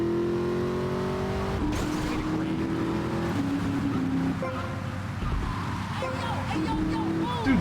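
Racing car engines in GTA: Vice City drone loudly and continuously, with pitch shifting as the car accelerates and changes gear, other vehicles passing nearby and a voice talking over it.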